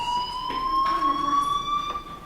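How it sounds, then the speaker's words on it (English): A fire alarm rings in the Life Is Strange video game, a steady high electronic tone that holds through the moment with faint room sounds under it. "Hey, do you hear that fire alarm?"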